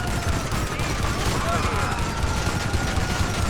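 Rapid overlapping gunfire from a spread weapon in a video game fills the space, a dense, loud, continuous crackle of blasts with no gaps between shots.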